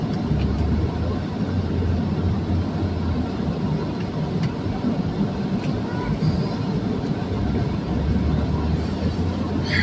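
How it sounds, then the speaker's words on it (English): Car air conditioning blows at full blast inside a hot vehicle, a steady dense whooshing roar that fills the whole stretch without pause, with faint road rumble beneath. "Sorry about the background noise, but my car is hot. I gotta have the air cranked up right now."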